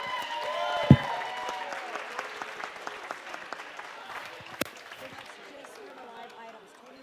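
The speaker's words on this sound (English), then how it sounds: "a huge round of applause" Audience applause at a school fundraiser gala, moderate clapping from a crowd in a hall that swells briefly and then gradually tapers off over several seconds, with a sharp knock near the start.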